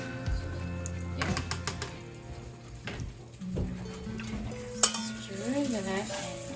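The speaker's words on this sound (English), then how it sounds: "Stir that in. Kind of try to whisk it with your spoon." Spoon scraping and clinking against a pan while stirring a gluten-free flour mixture, close irregular metallic scrapes and taps with a faint sizzle underneath, no talk.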